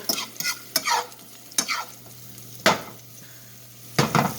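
Shrimp dish ingredients sautéing in a pan, a soft background sizzle broken by several sharp scraping stirs of a utensil against the pan at uneven intervals.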